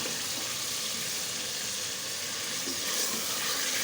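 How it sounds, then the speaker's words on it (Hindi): Water goes into fried masala in a pan while cooking a curry for an iftar meal, giving a steady, loud hiss and sizzle with faint bubbling throughout, no voices. "अब साथ ही इसमें मैं डाल दूँगी पानी।"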